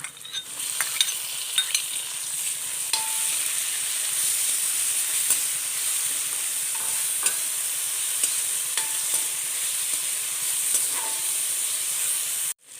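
Bitter gourd and chopped tomato sauté in a pan for pavakka perattu, a steady hissing sizzle broken by scattered scraping stir clicks, close and moderately quiet with no talking.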